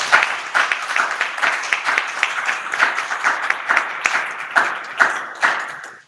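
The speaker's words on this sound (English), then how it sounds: "I am asking you an applause" Meeting participants applaud in a small group, distinct individual claps in an uneven rhythm, close and moderately loud, tailing off at the end.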